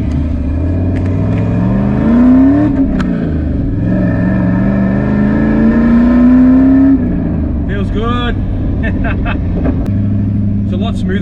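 A Nissan Patrol fitted with an LS1 V8 engine revs up twice in long, smooth rising sweeps, loud and close, then settles into a rough idle with some lighter knocking noises.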